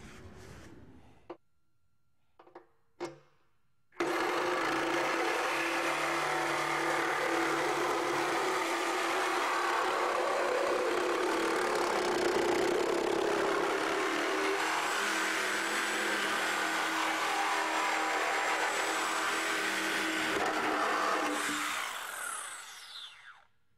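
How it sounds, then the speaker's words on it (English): A Milwaukee Sawzall with a regular bimetal blade cuts through an OEM 2008 Ford Focus bumper beam during a destruction test. A few short knocks come first, then about 19 seconds of loud, steady, harsh sawing that cuts off at the end. "Notice I have a Milwaukee Sawzall with a regular bimetal blade."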